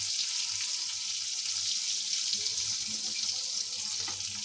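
Chicken chops frying in a pan, a steady hissing sizzle of hot oil running continuously, close and even in level.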